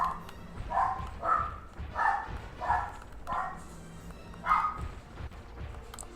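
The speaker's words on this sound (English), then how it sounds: "Dogs are crazy." Dogs in Sly 3: Honor Among Thieves bark over and over, about six loud, close woofs at a steady pace with short gaps, and no talking over them.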